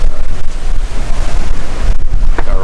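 Wind buffeting the microphone and a big sea swell rushing past a sailing boat under way, a loud continuous roar with gusting surges and no talk.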